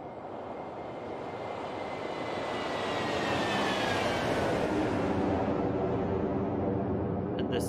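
Airbus A330 jet engines in the X-Plane 12 flight simulator, a broad roaring rush that swells louder over several seconds with a rising whine, no voices.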